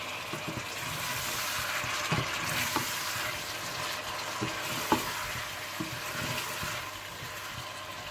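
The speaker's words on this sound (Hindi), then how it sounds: "जैसे ही अदरक लहसुन थोड़ा सा भुन जाए तो आप इसमें टमाटर डाल दें और इसे अच्छी तरह से मिला लें" Tomatoes are stirred into ginger and garlic frying in oil for keema matar, giving a steady close sizzle with scattered spoon scrapes and taps throughout.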